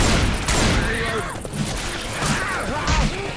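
Rapid bursts of gunfire from the zombie shooter Left 4 Dead 2, loud and close, with a player's voice speaking over the shots.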